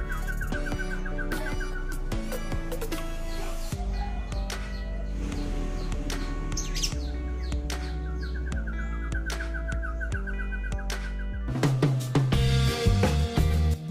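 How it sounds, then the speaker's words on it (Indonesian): A Papuan cucak pantai, a bird endemic to Papua, sings in clear, repeated whistled phrases and quick chirping trills, close and prominent, with a louder, busier burst of calls near the end and no talking. "Contoh cucak pantai saya ini, alhamdulillah dengan perawatan tersebut 3 minggu sudah mulai angkat bunyi."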